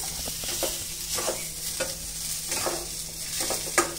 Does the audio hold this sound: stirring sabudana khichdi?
yes